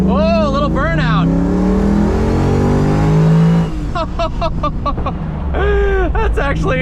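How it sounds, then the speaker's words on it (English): A Ford Bronco with a Coyote V8 revs hard through rising gear pulls and spins into a short burnout, loud and close. Voices talk and exclaim over the engine. "I'm gonna go ahead and slow down to a stop and give it a little acceleration"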